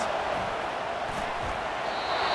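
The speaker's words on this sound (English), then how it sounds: "this crowd is tearing the lid off this place" A packed stadium crowd at a USC versus Miami football game roars in a dense, continuous wash of noise, loud and unbroken across the whole moment.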